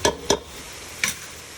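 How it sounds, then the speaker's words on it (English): Chopped onions and ground beef cooking in a pan for spaghetti sauce: three short, sharp spoon clacks against the pan over a faint, steady sizzle. "So I'm going to cook that down until the onions are translucent."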